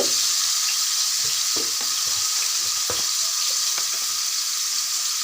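Garlic, onion paste, salt and spices sauté in hot oil for a dried fish and brinjal curry, a loud, dense, steady sizzle with soft scraping stirs running throughout.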